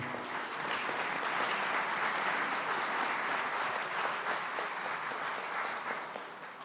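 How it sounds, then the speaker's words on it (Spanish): Sustained applause from a large audience at a judicial transparency forum, steady broadband clapping swelling then easing off toward the end, with no voices over it. "a quien demos un fuerte aplauso"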